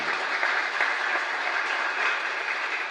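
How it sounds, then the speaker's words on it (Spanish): A congregation in a Catholic chapel applauds during a live service, a dense, even wash of clapping that continues steadily and fairly loudly throughout. "un fuerte aplauso para todos ustedes"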